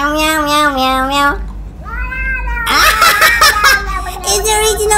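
A voice imitates a cat, repeating drawn-out meows in a rising, wavering tone, followed by excited chatter and laughter.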